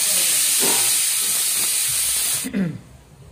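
Radish greens boil in a pot with a loud, steady hiss of steam and bubbling that cuts off suddenly near the end. A faint low sound follows.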